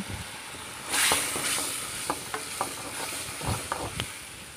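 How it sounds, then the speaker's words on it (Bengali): A mustard spice paste fries in a pan for a greens curry, hissing with a brief loud sizzle as it goes in, then repeated taps and scrapes of stirring over a low, steady frying hiss, with no talk. "মশলাগুলো ভালো করে কষিয়ে নিতে হবে, কাঁচা গন্ধটা যাতে চলে যায়।"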